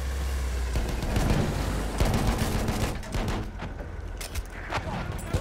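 Dense gunfire in a tank battle video game, with rapid overlapping shots and rattling bursts over a low engine rumble, loud and continuous across the whole stretch.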